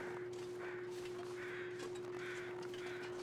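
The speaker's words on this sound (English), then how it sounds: "There are crows flying overhead" Crows cawing in the snowy wilderness of the survival game The Long Dark, a run of hoarse calls repeating at a steady pace over a constant hum, faint and distant.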